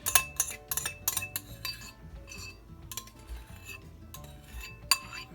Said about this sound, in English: I always scrape the bowls